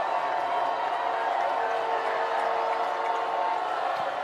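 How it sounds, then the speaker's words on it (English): A big crowd at a Crater versus Springfield high school football game roars loudly from the stands, a steady dense wall of cheering and shouting that never lets up, with no clear single voices standing out. "The crowd is going out of control below us."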